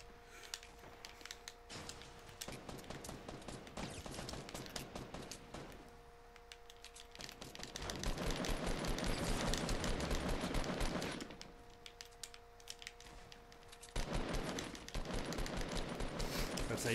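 Shotgun fire in the video game Fortnite: bursts of sharp blasts arrive in loud clusters over a steady game soundscape, with heavier stretches of firing in the middle and near the end.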